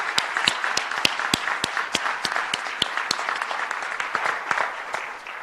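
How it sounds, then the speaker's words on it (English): An audience at a talk on basic income applauds volunteers, with steady, moderately loud clapping from a modest crowd where individual sharp claps stand out, easing slightly toward the end. "Can we give them a round of applause, please?"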